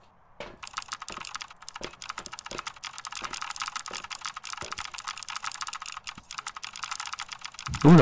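Rapid typing on a computer keyboard, a dense stream of quick clicky keystrokes close to the microphone lasting several seconds, with a few heavier key hits mixed in.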